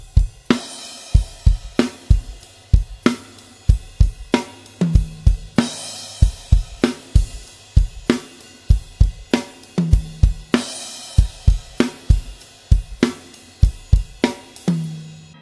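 An acoustic drum kit plays the first half of an early punk rock beat, a steady, close rock groove with punchy kicks, snare backbeats and crisp cymbals repeating in a loop.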